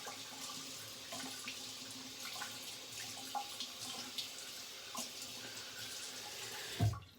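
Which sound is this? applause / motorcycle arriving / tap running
tap running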